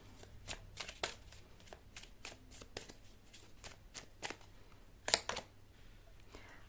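Tarot cards being shuffled by hand, a string of crisp riffling bursts and soft slaps at an uneven pace, close and fairly quiet, with one louder flurry near the end.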